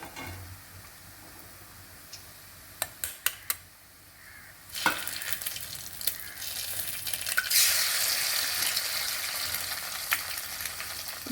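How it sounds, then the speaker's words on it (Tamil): Egg being fried in a little oil at one side of a pan beside vegetables, heard as a steady loud sizzle that swells partway through, preceded by a few sharp utensil ticks and clinks. "முட்டையை ஃப்ரை பண்ணிப்போம்"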